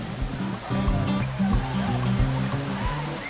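Rushing water pours steadily at a bathing waterfall, a broad continuous roar with a faint undertone of people in the background.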